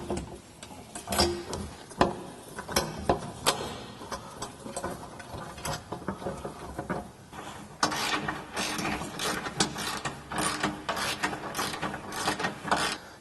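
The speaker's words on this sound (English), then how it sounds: "we're going to use a 3/4 inch socket on a 3/8 drive ratchet and tighten this down" A 3/8-drive ratchet with a 3/4-inch socket tightens a bolt on a Jeep JK skid plate, giving rapid, close clicking in repeated bursts with a steady rhythm and no talk.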